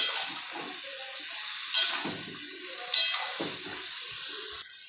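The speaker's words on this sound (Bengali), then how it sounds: "ভালো করে একটু নাড়িয়ে চাড়িয়ে একটুখানি জল দেবো" Vegetables from a rooftop garden sizzle and hiss steadily in a hot pot, with two brief louder bursts as they are stirred or turned, then the sizzling cuts off near the end.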